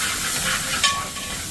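Onion, ginger, garlic and green chili sautéing in a pan for fried chicken biryani, a continuous soft hiss with a brief sharper burst partway through.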